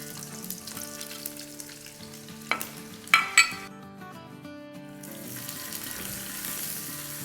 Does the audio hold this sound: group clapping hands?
no